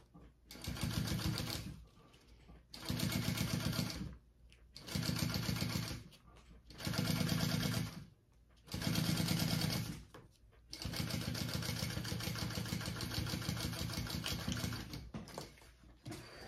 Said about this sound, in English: now we are going to top stitch.